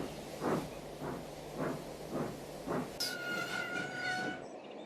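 A train shunting coal cars rumbles past with rhythmic clacking of wagons over rail joints, then a sustained horn sounds near the end.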